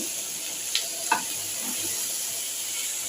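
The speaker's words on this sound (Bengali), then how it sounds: "এখন আমি এই যে আলু ভেন্ডি ভাজছি পেঁয়াজ দিয়ে" Potato and okra frying with onion in a pan give a steady, moderately quiet sizzle, with a couple of brief sharp crackles or utensil scrapes near the start and no talking.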